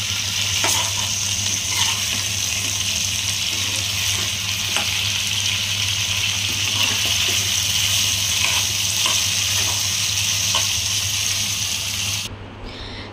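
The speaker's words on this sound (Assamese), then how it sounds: "মাংসখিনি মই ভাজি আছো এনেকে অলপ সময় ভাজি থাকিম" Chicken pieces dry-frying in a wok with no water added, a steady loud sizzle with occasional stirring scrapes and clinks, continuous for several seconds before easing off near the end.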